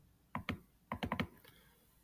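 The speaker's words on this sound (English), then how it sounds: "I'm going to do this by just typing in the word no data" Typing on a computer keyboard, a brief run of about eight crisp, close key clicks in two quick clusters, with quiet pauses around them.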